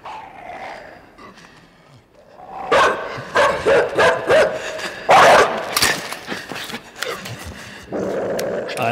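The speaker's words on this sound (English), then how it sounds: "That dog just ate the little kid." A dog in the video game INSIDE growls and barks in a rapid series of loud snaps and snarls, building from quiet growling into aggressive bursts, with no talking.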